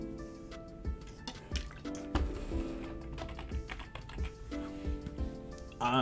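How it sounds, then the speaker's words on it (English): Irregular clicking of keys on a computer keyboard during a Skribbl.io drawing game, with quick bursts and pauses and tonal game music running underneath. "I'm not typing where I'm supposed to."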